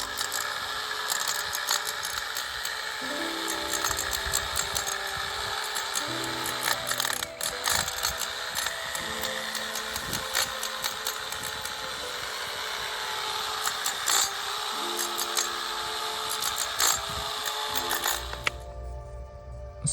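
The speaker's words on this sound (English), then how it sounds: "I was doing some work with the heavy tool to get the worst of the old facade plaster away" A heavy power tool grinds away old plaster on the facade of an Italian house, a steady loud mechanical rasp running almost the whole time with brief shifts in pitch, no talking.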